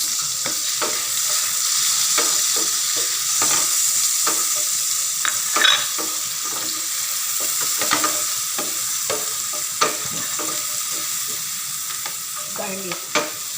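Chopped onion sizzles steadily in a hot pan while a utensil stirs it, producing repeated scraping knocks over the constant frying hiss.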